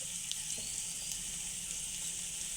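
Cluster beans (gavar) sizzle and fry in hot oil with garam masala and spices, a continuous close, bright hiss with faint crackles running steadily throughout.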